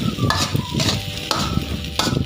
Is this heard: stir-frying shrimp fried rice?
yes